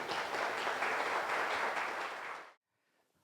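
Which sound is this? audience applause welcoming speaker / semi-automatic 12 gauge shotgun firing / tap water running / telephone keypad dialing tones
audience applause welcoming speaker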